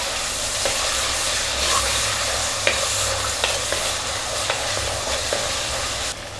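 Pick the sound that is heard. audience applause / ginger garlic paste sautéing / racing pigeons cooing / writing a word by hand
ginger garlic paste sautéing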